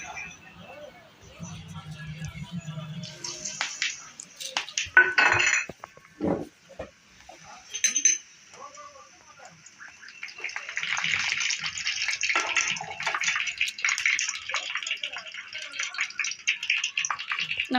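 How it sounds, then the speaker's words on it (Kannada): Curry leaves, cumin and mustard seeds go into hot oil, making a hissing, crackling sizzle with occasional clinks of utensils on the pan while a person talks in the kitchen. "ಕರಿಬೇವನ್ನ ಹಾಕೋಣ."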